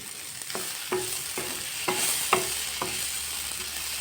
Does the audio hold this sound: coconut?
yes